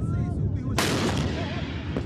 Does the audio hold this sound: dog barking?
no